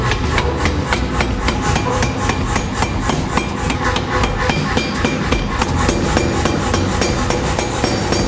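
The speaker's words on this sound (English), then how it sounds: "we're going to try and forge out the eye, bend it around and forge weld it together" Rapid, steady hammer blows ring on a bar of EN24 steel as its end is forged into the eye of a homemade drill bit, each loud strike following the last in a close, even rhythm for the whole stretch.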